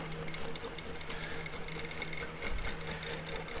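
A longarm quilting machine stitches a meander basting pattern across a quilt, a steady, rapid mechanical whir and needle chatter running continuously and close, with no talk.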